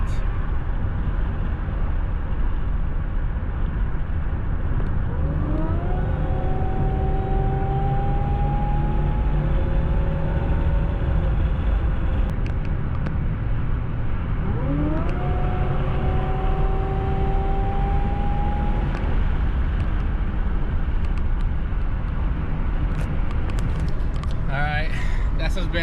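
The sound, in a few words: Buick Regal GS with ZZP Stage Two accelerating during a pull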